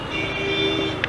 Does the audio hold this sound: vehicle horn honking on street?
yes